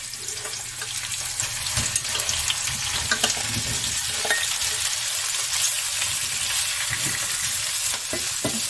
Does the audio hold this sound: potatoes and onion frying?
yes